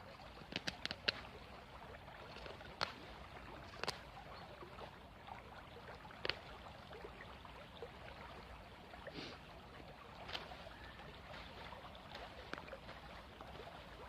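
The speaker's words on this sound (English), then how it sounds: "It's lovely listening to the sound of the river." A river flowing outdoors, a faint, steady wash of moving water in the background, broken by scattered sharp clicks and taps nearby.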